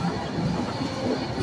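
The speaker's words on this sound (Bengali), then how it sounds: "ট্রেন অবশেষে ট্রেনটি ছাড়লো" The Rupsi Bangla Express pulls away in a steady, loud rumble of rolling carriages heard from on board, with faint rhythmic rail clatter and no voices.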